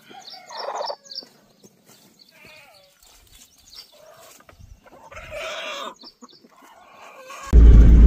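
Chickens and roosters cluck and squawk nearby in scattered bursts, with animal calls between them, before a loud rumbling thump at the end, as they are loaded for market.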